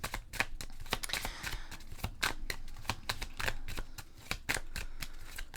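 Tarot message cards being shuffled and drawn by hand, a quick run of close, soft riffling snaps and flicks repeating irregularly throughout.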